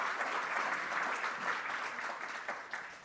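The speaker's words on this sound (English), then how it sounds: "We can clap a little bit, it's okay." Sustained clapping from an event audience as guests are introduced, even and continuous throughout, moderately quiet and without talk.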